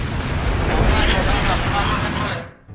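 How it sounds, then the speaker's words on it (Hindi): Explosion from an attack on an oil refinery on an Iranian island: a loud, sustained roaring blast rumble lasting a couple of seconds before cutting off abruptly. "सीजफायर के बाद ईरान के लवाना द्वीप पर हमलों से जोरदार धमाका हुआ"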